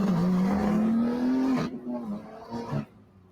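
A BMW G80 M3 and an Audi RS3 accelerate hard from a 40 mph roll, one engine droning loud and close with a steadily rising tone for about a second and a half. The sound then drops to a fainter, fading roar.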